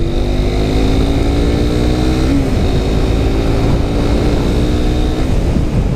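A Suzuki GSX-S 150, a 150cc naked bike making 19 bhp, is ridden at speed, its engine droning steadily under loud rushing wind throughout, with a brief shift in pitch midway.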